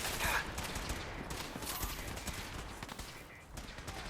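Rapid gunfire from the video game Fallout 4, a dense stream of shots running steadily through the whole stretch at moderate loudness, with no break in the firing.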